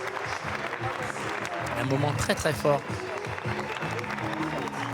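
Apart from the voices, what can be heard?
theatre audience applauding at Cannes festival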